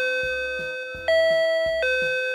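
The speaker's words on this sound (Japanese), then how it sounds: "今もうチャイム鳴らされましたからね。" A doorbell chime rings inside a home, sounding as a sequence of clear electronic ding-dong tones repeated across a couple of seconds, close and prominent with no talk over it.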